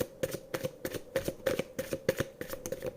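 Tarot cards shuffled and handled at close range, a rapid series of crisp riffling flutters and slaps in an uneven rhythm, with no voices over them.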